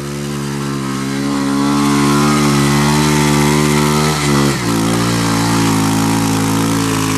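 Vehicle stuck in mud with its wheels spinning while the engine revs hard, a loud close sustained drone that holds steady, then dips briefly and drops in pitch near the end.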